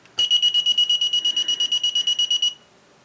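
An electronic buzzer on a paintball wire-cut prop with a countdown timer sounds as a rapid train of about twenty short, high-pitched beeps for two seconds, close and fairly loud, then stops.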